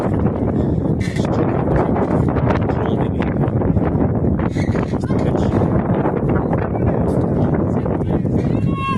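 Strong wind buffets the microphone at an outdoor GAA rounders pitch during a ladies' All-Ireland final, a loud, continuous roaring rumble throughout, with voices partly buried beneath it.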